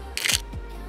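A Canon mirrorless camera with an RF 50mm f/1.2 lens fires one shot in a portrait studio, a crisp two-part shutter click, close and clear against quiet background hum.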